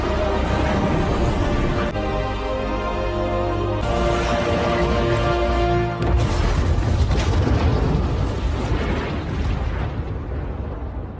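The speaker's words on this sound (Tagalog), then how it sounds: "sumabog ng malakas ang gusali" Film sound of a building exploding: a sequence of heavy booming blasts with rumbling debris, sudden loud onsets around two, four and six seconds, dense and continuous to the end.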